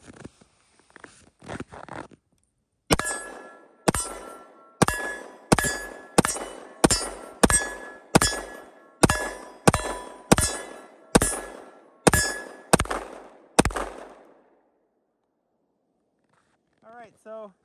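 Smith & Wesson M&P 2.0 10mm pistol fired at steel targets outdoors: a quick string of about fourteen sharp, loud reports, each followed by a ringing metallic clang, then quiet and a brief voice at the end.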